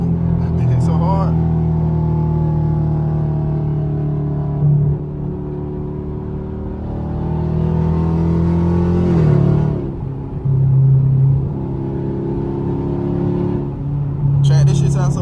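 A catless, straight-piped Camaro SS drones loudly at highway speed, with a deep steady exhaust rumble that swells briefly on throttle, heard from inside the car while someone talks over it.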